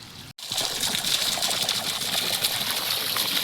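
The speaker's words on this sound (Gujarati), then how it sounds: "આ પાણી નર્મદાનું પાણી પવાઈ રહ્યું છે" Narmada canal irrigation water pours steadily through an organic mango orchard, a continuous close trickling gush that runs without pause after a brief gap at the start.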